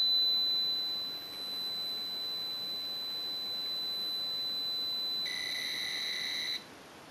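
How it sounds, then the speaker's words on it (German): A steady high electronic tone from a Sharp PC-1402 pocket computer saving data holds over a hiss, then a brief burst of warbling data tones before it cuts off. "Dann hört er gleich die Töne. Das ist erst der Piepston."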